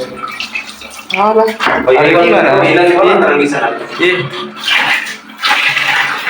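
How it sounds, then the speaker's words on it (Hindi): Water runs steadily from a lift-handle tap in a room, a continuous close rush heard under loud ongoing talk. "ऊपर उठाओ तो ऊपर से आता पानी।"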